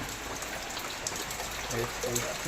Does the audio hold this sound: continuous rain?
yes